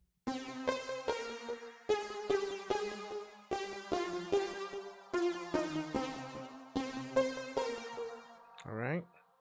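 A bright synth lead plays the first melody of a song's chorus in quick, rhythmic notes, each with a sharp attack, repeating in short phrases and ending on a brief rising sweep.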